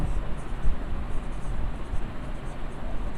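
Steady scratchy pen-on-paper writing as a physics question is copied out by hand, a continuous soft rasp close to the mic with no talk over it.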